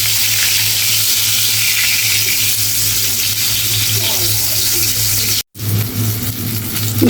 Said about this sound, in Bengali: আর একটু বেশি করে তেল দিয়ে বেগুন ভাজলে না